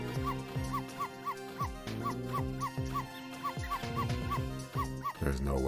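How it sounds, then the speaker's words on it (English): Dog in the Ghost Trick: Phantom Detective game barking repeatedly in a steady rhythm, sharp yips and whimpering bow-wows close up over loud background music. "There's no way you can't hear that dog barking"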